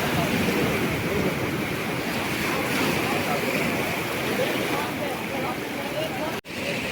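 Sea waves at Kanyakumari, where strong currents rush toward the shore, make a steady, loud surf roar mixed with wind noise on the microphone, continuous for the whole stretch with only a momentary dropout near the end.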